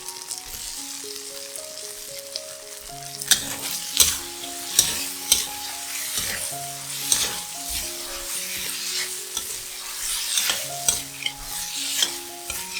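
Carrots and bell peppers stir-fried in a wok, a continuous sizzle punctuated by rhythmic metallic spatula clanks and scrapes repeating roughly every second, close and clear with no talking.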